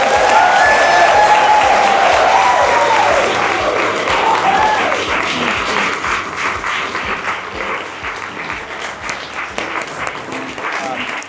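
A live audience bursts into loud, sustained applause as Kay Evans is welcomed on stage, a dense wash of clapping that slowly thins over about eleven seconds, with a voice speaking over it early on.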